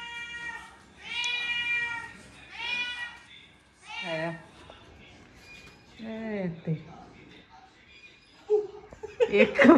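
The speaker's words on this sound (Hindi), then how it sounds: "आज एक बिल्ली आई थी जो कि बहुत ही ज़्यादा भूखी थी।" A very hungry stray cat visiting a family home meows loudly and repeatedly in drawn-out, pleading cries, with quieter pauses between, followed by people talking and laughing close by.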